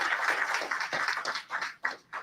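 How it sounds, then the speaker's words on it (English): Audience applause closing an expert panel discussion at the Global Africa Forum, a dense wash of many hands clapping steadily at moderate level, thinning and fading out toward the end. "Please give a round of applause to our experts"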